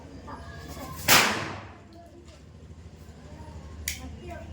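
One sharp, loud crack of a small firecracker (lavangi) bursts nearby, followed by a fainter pop a few seconds later over quiet background voices.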